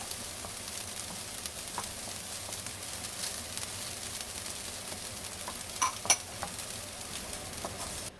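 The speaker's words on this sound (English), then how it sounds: "mix in the peanuts as well." Peanuts stirred into a pan of vegan soy curl filling for spring rolls, with a steady faint sizzle under light scraping and a couple of soft utensil clicks.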